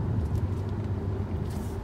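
A Hyundai Alcazar in Comfort drive mode carrying six people hums along with a steady low engine and road drone from inside the cabin, even and continuous.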